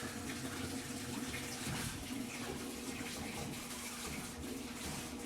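Water rushes into a washing machine through new hot and cold inlet valves, a steady, continuous hiss of filling water that holds at an even level throughout, with no talking.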